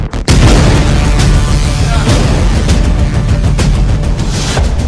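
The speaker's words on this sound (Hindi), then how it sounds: "मदरसे में जोरदार धमाका।" A sudden loud boom from a blast at a madrasa in Banka, Bihar, followed by sustained heavy rumbling and crackling noise that stays loud to the end.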